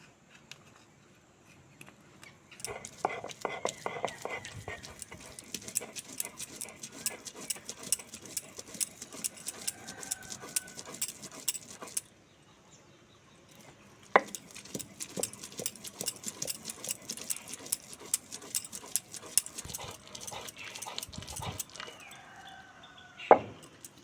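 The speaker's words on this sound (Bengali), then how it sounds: "এবার সমস্ত উপকরণগুলো ঠান্ডা করে শিলে বেটে নেব" Spice ingredients are ground on a traditional flat grinding stone (shil) in two long bouts of rapid, rhythmic scraping and knocking strokes, with a brief pause between them and no voices.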